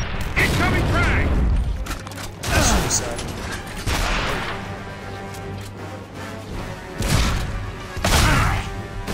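A frag grenade going off in Gears of War during an insane-difficulty co-op campaign, amid heavy booming blasts, crashes and gunfire bursts that repeat across the scene, with occasional voices.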